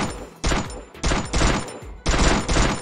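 Rapid bursts from the Victor gun in the Free Fire video game, loud close fusillades in three to four sharp salvos with short gaps between them and no talk.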